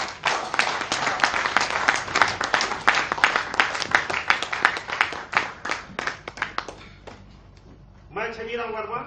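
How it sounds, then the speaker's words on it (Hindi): An audience gives loud, dense applause at a wellness and health awareness event as someone is welcomed on stage; the clapping runs for about eight seconds, thins out, and a voice begins speaking. "जोरदार तालियां इनके लिए।"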